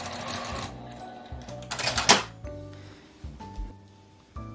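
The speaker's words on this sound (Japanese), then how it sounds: "留め具のところで返し縫いをします。" Sewing machine back-stitching at the fastener of a fabric L-shaped zipper tablet case: a short loud whirring burst of stitches amid quieter mechanical clicks and taps, close by.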